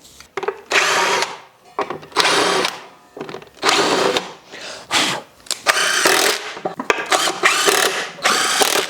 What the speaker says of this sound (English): properly affix the platform to the base with some more countersunk screws